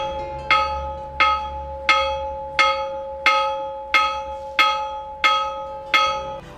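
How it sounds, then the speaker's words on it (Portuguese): A church bell in Ribeirão Preto, Brazil, tolls nine times at an even, unhurried pace, each strike ringing out clearly and decaying into the next. "O sino era tocado todos os dias"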